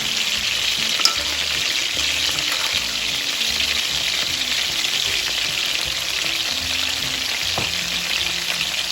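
Smash burgers topped with cheese sizzle on a flat griddle, a loud, steady hiss of frying with small crackles throughout and no talking.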